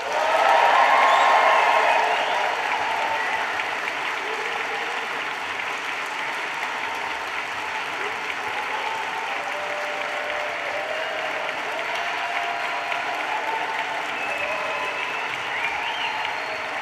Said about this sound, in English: I really want you to make some noise, clap and cheer for the class of 2024